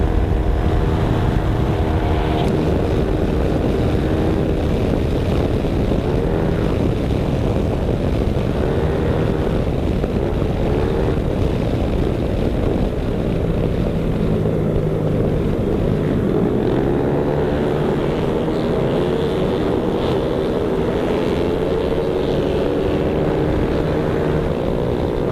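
Loud V8 race car engines at an endurance event, a continuous heavy roar that fills the whole stretch with steady droning tone and slight shifts in pitch, close and overpowering with no talk.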